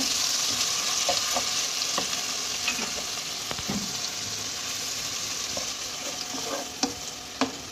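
Spices stirred and fried in a pan for prawn pulao: a steady, close sizzle runs throughout while a spoon scrapes and clicks against the pan at irregular moments, with no talking.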